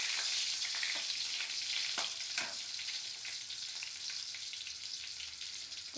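Food fries in a pan while being stirred, a dense close sizzle broken by scraping strokes in the first few seconds, then a steadier hiss; no voices.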